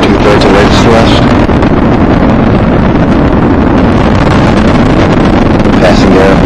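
Space Shuttle Discovery's main engines roaring during its December 2006 launch, a loud, continuous broadband rumble heard from a distance, buffeted by wind noise on the microphone and with a voice faintly beneath it.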